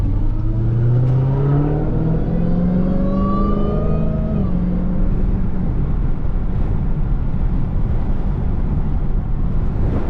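A Dodge Hellcat's supercharger whines loudly over a rising engine roar while driving, the pitch climbing as the car accelerates before settling into a steady rumble, with no talking.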